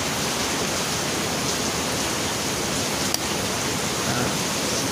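Steady hiss of rain falling during an afternoon downpour, an even, dense wash of sound close around the recording spot with no voices.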